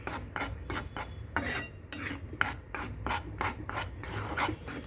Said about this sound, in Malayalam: ഞാനിപ്പോൾ നാഴി അരിപ്പൊടിയാണ് എടുത്തിട്ടുള്ളത്. അതൊന്ന് ചൂടാക്കി വറുത്തെടുക്കും.